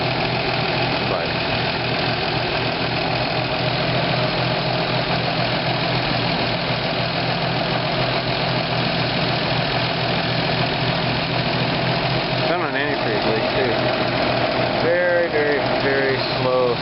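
A Toyota FJ40 engine idles after a valve adjustment, a loud, steady close-up rumble with a faint ticking that runs throughout, while someone talks over it.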